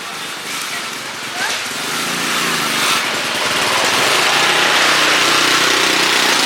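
Engines rumble and whine continuously nearby, growing steadily louder as motorbikes pass along a street in Bali, Indonesia.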